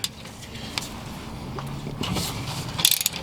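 A ratchet wrench breaking loose the rear differential cover bolts on a 2009–2014 Ford F-150, with scattered metallic clicks, clanks and shifting tool handling close by, growing busier toward the end.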